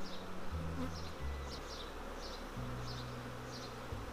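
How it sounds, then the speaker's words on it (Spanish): Honeybees buzzing at an open beehive during an apiary inspection in June, a dense continuous drone close by with shifting pitches as individual bees pass, no talk. "Mirar, esto es una colmena."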